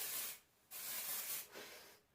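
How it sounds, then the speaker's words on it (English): Oscar Blondie Dry Heat Protect heat protectant is sprayed onto straightened hair: three short, soft aerosol hisses in quick succession, close and fairly quiet, with no voices. "This is the Oscar Blondie Dry Heat Protect Spray"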